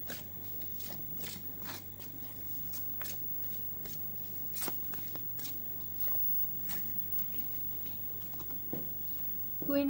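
Tarot cards are shuffled and drawn at close range in a quiet room, giving a run of soft, brief riffling taps and card slaps spread across the stretch, with a low steady hum beneath.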